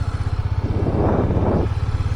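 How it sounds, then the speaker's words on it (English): A Honda CB300F motorcycle rolls along at a slow, steady cruise, its low engine thrum pulsing evenly close by, with a brief swell of broader road and engine noise in the middle. "let's just take the bike for a slow cruise"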